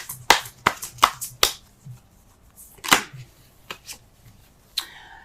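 Tarot cards are handled and shuffled, producing a series of sharp, close snaps and flicks in an irregular rhythm, about eight distinct clicks over several seconds with quiet gaps, no talking.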